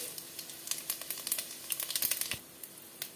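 Bay leaves, three dried chillies and five-spice crackle and sizzle in hot oil as a tempering, with quick sharp pops clustering in bursts, close but fairly quiet.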